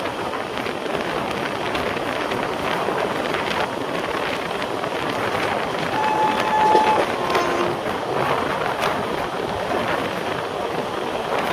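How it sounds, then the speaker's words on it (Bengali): Local trains at Mecheda halt roll past one after another, a continuous broad rumble of wheels on track with a faint whistle-like tone in the middle, swelling slightly before settling. "ভিডিও কাট না করে দেখাচ্ছে পরপর দুটো লোকাল ট্রেন।"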